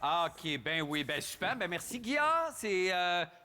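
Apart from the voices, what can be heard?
None of the usual background noises is heard.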